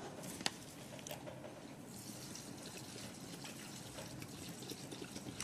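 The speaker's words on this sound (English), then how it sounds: "So after mixing it, we are adding our alcohol." Ethanol alcohol being poured into a hand sanitizer gel mixture, giving a steady close trickle of liquid with a faint splash near the start, and no voices.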